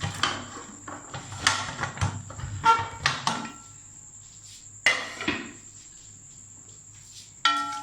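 A pressure cooker of keema builds pressure with a steady, thin high-pitched hiss, broken by scattered clanks and knocks that fade to near quiet before a final clatter.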